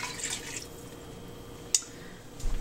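Cooking wine poured from a bottle into a pot of cod fish chowder, a soft liquid splash with one sharp drip or clink midway and a little more sloshing near the end, close by with no talk.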